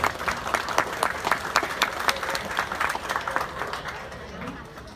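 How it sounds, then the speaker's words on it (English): Audience applause at a youth swine market show, welcoming a Fair Royal Ambassador in the show ring: steady crowd clapping for about four seconds, then thinning and fading out. "Let's give her a round of applause."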